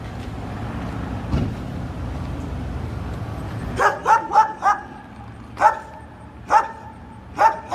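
A dog barks repeatedly nearby, a quick burst of sharp barks followed by several spaced single barks, after a stretch of low rumbling background.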